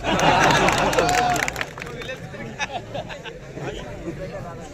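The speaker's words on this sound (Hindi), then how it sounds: "लेकिन तालियां हौसला बढ़ाने के लिए कभी कभी चाहिए भी" Applause and crowd cheering at an outdoor political rally, a dense burst of clapping and voices that fades after about a second and a half into murmuring crowd babble.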